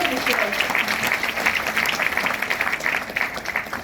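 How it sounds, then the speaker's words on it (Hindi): Seminar audience in Mumbai clapping loudly and continuously, a thick crowd of hands with some voices mixed in the background. "जोरदार ताली हमारी यूनिवर्सल फाउंडेटर्स की"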